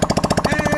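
A 2019 Honda Grom motorcycle engine fires up with no exhaust fitted, giving a loud, close, rapid mechanical pulsing that settles into a steady raw drone with a rising whine toward the end.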